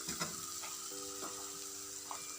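Chicken pieces dropped into a curry in a pan at home, giving a steady, quiet sizzle with faint clinks and stirring scrapes; no talking.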